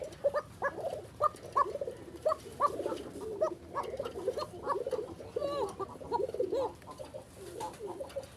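Pigeons coo repeatedly and close by, a series of soft, rolling throaty calls in an irregular rhythm over quiet background.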